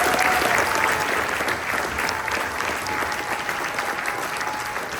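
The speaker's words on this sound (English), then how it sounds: "let's give them a round of applause for helping out" Sustained audience applause at an Airman Leadership School graduation, a dense even wash of clapping from a crowd lasting several seconds with no talking.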